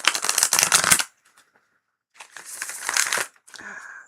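Tarot cards being shuffled up close, two crisp riffling bursts separated by a short pause, then a softer flutter of cards.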